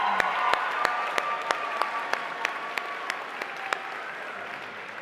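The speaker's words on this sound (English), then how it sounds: "And a big round of applause for Te Anua." A round of applause at the Voyager Media Awards ceremony, continuous crowd clapping with a regular run of sharp, louder claps standing out near the front, at a soft overall level.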